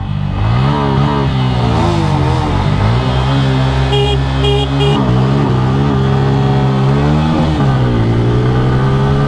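A TVS Apache RTR 160 4V motorcycle accelerating hard: a loud, close engine rising in pitch through the gears, with clear drops at each gear change as revs climb again, and no talking over it.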